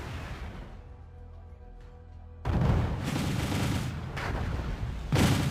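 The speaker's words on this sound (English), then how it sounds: "there's some more artillery, it looks like, hit" Artillery fire in the Wargame: European Escalation strategy game, heard as a sudden burst of loud booming shots that starts partway in and continues in a dense rolling fusillade, with a further heavy burst near the end.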